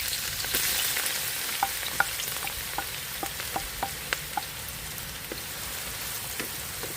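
Onions sauté in a pan turned to low heat, giving a steady soft sizzle with scattered small pops and crackles throughout, close and fairly quiet.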